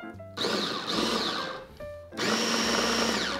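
A kitchen blender pulses a homemade Taiwanese sesame paste seasoned with oyster sauce, sugar and salt, whirring loudly in two bursts with a brief stop between them.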